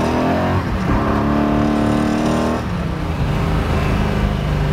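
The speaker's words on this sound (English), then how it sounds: "Just a quick little 1-2 blast." A 1967 Ford Mustang Fastback Shelby GT500 clone accelerates hard in first gear, its engine note rising loudly and steadily, then dips briefly as if shifting before pulling again, close and without talk.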